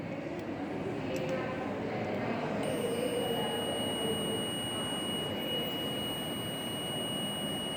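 A breadboard continuity tester gives a steady, thin beep tone that starts partway through and holds on, faint under a background hiss.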